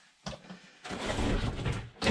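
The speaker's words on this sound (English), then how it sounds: "swing your shower door out of the way" An RV bathtub enclosure's shower door swung open out of the way, heard as a short knock followed by a longer sliding, rattling scrape and another bump at the end, close and with no talk.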